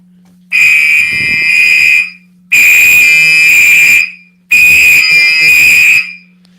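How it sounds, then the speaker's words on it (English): A smoke detector alarm under test sounds three loud, shrill electronic beeps. Each lasts about a second and a half, separated by short gaps, with a low steady hum underneath and no talking. "Did I test the smoke detector before?"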